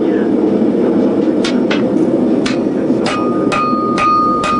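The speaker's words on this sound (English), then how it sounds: "To put the edges on, draw the edge bevels, start with a larger shaping hammer." A hammer strikes a steel bar being forged, about eight sharp metallic blows ringing out at an irregular pace over a steady roaring background, loud and close.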